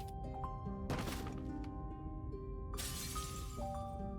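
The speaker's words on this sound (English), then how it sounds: "It's the sound of a coffee cup shattering." A coffee cup shatters in the Punishing: Gray Raven video game, a sharp crash of breaking ceramic sounding twice over a steady musical score and tones.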